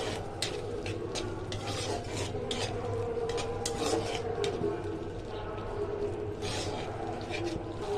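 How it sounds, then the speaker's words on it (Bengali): Sour curd being stirred into a Bengali koi fish curry in a pan, giving a steady close scraping and rubbing of a spoon against the metal with a soft sizzle underneath, continuous throughout. "মিশিয়ে নিচ্ছি সেই টক দইটা।"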